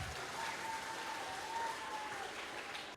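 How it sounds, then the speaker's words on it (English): Applause from an audience of children at an Earth Rangers wildlife presentation, a steady, fairly faint wash of clapping lasting the whole stretch with a thin tonal hum running through it. "Can we give her a big round of applause?"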